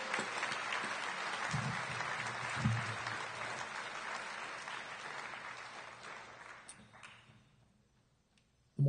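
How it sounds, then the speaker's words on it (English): An indoor crowd at a high school senior awards ceremony claps for the performers, loud and sustained, then gradually dies away to near silence. "Let's give them one more round of applause."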